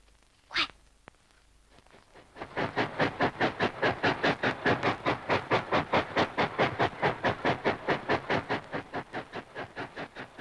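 A train passes along a railway line in a 1956 wartime film scene, its wheels beating a steady, loud clickety-clack rhythm over the rail joints that continues for several seconds after a brief sharp sound at the start.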